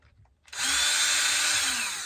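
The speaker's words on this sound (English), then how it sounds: "we should be able to go with the screw gun now. The drill." A power drill used as a screw gun backs screws out of a Traxxas 4-Tec RC car, whirring up sharply after a short pause and holding a loud, steady whine close by.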